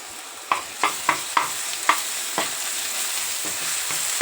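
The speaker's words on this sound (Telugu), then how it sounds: "స్మెల్ పోయేదాకా కొంచెం ఫ్రై చేసుకుందాము." Onions, chillies and ginger-garlic paste frying in a pan for a small-fish curry, with a steady sizzle and a run of sharp spatula scrapes and stirs in the first two seconds, close and fairly loud.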